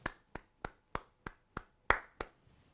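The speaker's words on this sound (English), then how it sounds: "Give yourself a big round of applause." Eight sharp, separate hand claps at a steady, slightly slow beat, close and clear, from a commencement graduate applauding alone, with faint room reverb and no voices.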